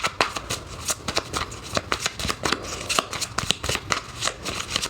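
Tarot cards shuffled in steady, crisp riffling bursts, close and fairly loud, continuing without pause and with no talk over them.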